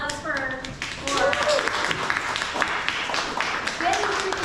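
Scattered hand clapping from a group of internship program participants applauding themselves, close and moderately loud, with voices talking over it throughout.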